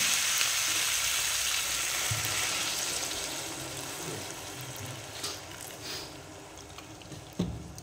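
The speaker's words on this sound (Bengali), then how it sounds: "আলু আর মটর কষানো হয়ে গেছে, এবার জল দিয়ে দেবো।" Water poured into a pan of sautéed potatoes and peas for aloo dum, a loud hiss and sizzle that slowly fades into bubbling with a few stirring knocks, close-up, with no talk.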